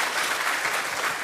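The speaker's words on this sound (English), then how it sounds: "Another round of applause." Sustained audience applause fills a conference hall at a Ghanaian heads-of-mission and envoys' orientation, with dense, even clapping throughout and no voices on top.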